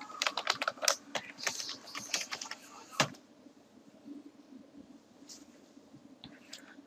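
Fast, irregular keystrokes on a computer keyboard while a username is typed, a dense close burst of clicks for about three seconds, then only a few scattered, quieter taps.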